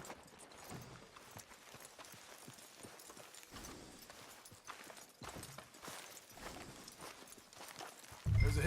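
Horse hooves clip-clop along a town street in the video game Red Dead Redemption 2, an even walking rhythm of light hoofbeats at moderate distance, ending in a louder thump.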